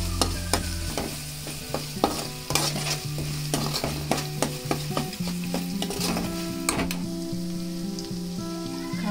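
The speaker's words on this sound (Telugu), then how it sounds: "ఇప్పుడు దీంట్లో అల్లం వెల్లుల్లి పేస్ట్ పచ్చివాసన పోయేదాకా బాగా వేసుకోవాలి." Ginger garlic paste fries in a pan for egg curry, a constant sizzle broken by repeated sharp spatula scrapes and knocks against the pan, close and fairly loud.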